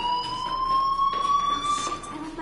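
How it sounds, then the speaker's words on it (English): A school fire alarm in the video game Life is Strange Remastered rings as a steady, sustained electronic tone with a slightly rising pitch and harmonics, continuous and fairly loud across the whole stretch. "Hey, do you hear that fire alarm?"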